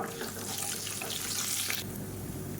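Eight garlic cloves and ginger pieces sautéing in a pan make a dense, steady hiss up close, with a brief brighter flare partway through and no talking.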